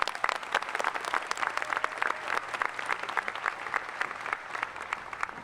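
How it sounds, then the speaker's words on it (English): Audience at a University of Iowa welcome ceremony for the Class of 2022 applauds a brass quintet, a sustained round of crisp, dense clapping with scattered sharper claps standing out. "Let's give them a round of applause"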